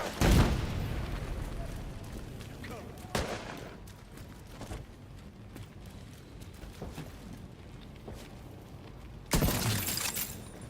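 A frag grenade explodes in a video game shooter: a loud sharp burst at the start, then a constant rumbling clatter of gunfire and a second heavy blast near the end.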